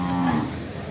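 A buffalo calf at the Erragadda Sunday buffalo market lets out a single short, close moo.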